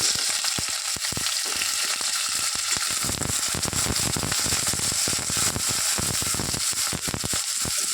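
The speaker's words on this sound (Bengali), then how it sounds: "একটু ভাজা মতন করে নিই।" Onion with dry red chili and green chili frying in oil in a wok, a loud continuous sizzle with rapid crackling pops throughout, alone without talk.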